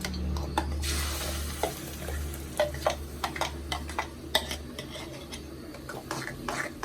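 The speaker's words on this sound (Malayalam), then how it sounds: "അരച്ചു വെച്ച കൂട്ട ഒഴിച്ചു കൊടുക്കാം" Ground paste sizzles steadily in hot ghee while a spoon scrapes and taps against the pan in irregular strokes.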